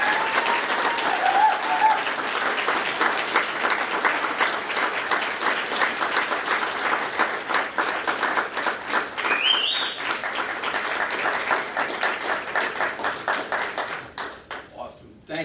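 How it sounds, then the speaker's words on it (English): An audience at a school board meeting applauds, a dense, steady wash of clapping from many hands that carries on for about fourteen seconds before thinning out and stopping. "So please give them all a round of applause."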